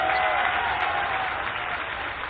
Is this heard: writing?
no